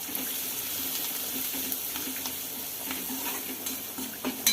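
Spices and coriander sizzle gently in a tempering pan while a spoon stirs and scrapes, with a few sharper clinks near the end.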